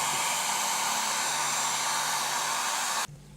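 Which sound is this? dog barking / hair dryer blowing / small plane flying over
hair dryer blowing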